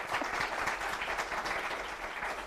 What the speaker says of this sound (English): a round of applause, don't be jealous.